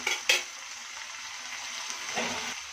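A tomato dish being stirred in a pan over the heat, with a steady low sizzle and a few soft utensil scrapes, faint and close, and no voices.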